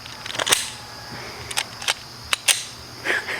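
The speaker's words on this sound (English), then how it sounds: "I'm gonna get that magazine back in it, get that gun racked" A handgun magazine is inserted and the slide racked after a failure to feed, heard as several sharp, close metallic clicks and clacks spaced irregularly across a few seconds with no talking.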